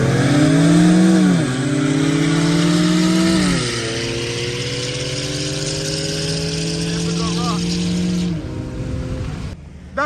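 An Infiniti G37 and a Q50S 3.0t accelerate hard in a roll race, heard from inside one car: a loud, rising engine drone with gear changes and revs climbing, then easing off near the end.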